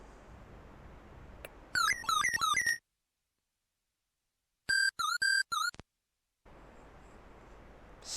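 An AY-3-8910 sound chip synthesizes a bird call: bursts of rapid chirping, warbling tones, then a silent gap and a second, cleaner run of quick stepped chirps, set between stretches of recorded outdoor ambience.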